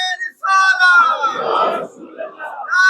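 A crowd at a Muharram majlis in an imambargah roars back a slogan in unison, a loud, close burst of many voices lasting about two seconds, then fading as the chant trails off.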